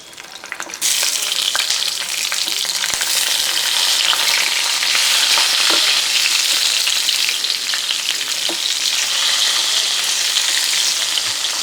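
Masala-stuffed okra (ladies' finger) fries in hot oil with a loud, steady, close sizzle that starts abruptly and continues without a break, along with occasional clicks of stirring. No one speaks.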